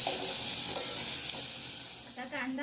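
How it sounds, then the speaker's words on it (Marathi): Onion frying in oil in a pan, a steady close sizzle with stirring scrapes throughout, fairly quiet and with no talking. "मी हा कांदा आहे ना मी तेलामध्ये चांगला परतून घेते"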